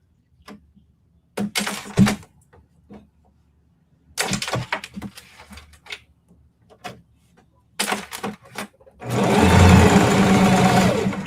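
A sewing machine stitches jelly roll fabric strips in several short bursts separated by quiet pauses, then one longer, louder continuous run near the end, all close by.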